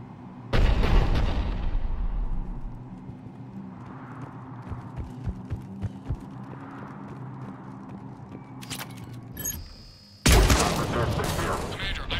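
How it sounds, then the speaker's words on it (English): Cerberus cannon fire in the video game Mass Effect 3: repeated sharp booms and impacts over a rumbling battle bed, with loud bursts at the start and end. "The cannon fire is clearing the way."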